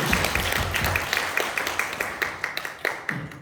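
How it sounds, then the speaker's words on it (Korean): Applause from a church congregation at a Wednesday worship service, a steady wash of many hands clapping, moderately loud, thinning into a few distinct claps near the end. "박수"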